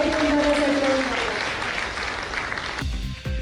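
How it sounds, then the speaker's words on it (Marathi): Loud, dense applause from a crowd at a political rally in Maharashtra, clapping steadily at close range before a voice breaks in near the end. "जोरात टाळ्या एकदा"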